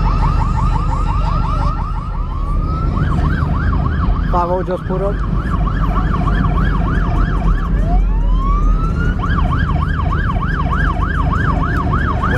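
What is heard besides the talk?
car alarm going off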